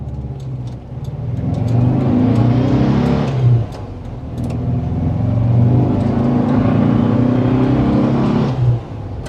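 A reconditioned Volkswagen Type 2 T2 camper's air-cooled engine revs up in two long pulls while driving, a droning whir that climbs, drops at a gear change, then climbs again, loud and close with no talk.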